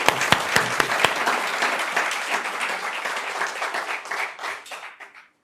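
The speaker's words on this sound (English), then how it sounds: "a huge round of applause for the Army Chief." A crowd breaks into loud applause that carries on steadily and then slowly fades away.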